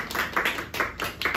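A small group at a hotel staff gathering claps in short rhythmic bursts, several distinct pulses of hand claps close by with brief gaps between them.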